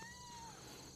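A tomcat lets out a single short, thin meow that falls in pitch, faint against a quiet background.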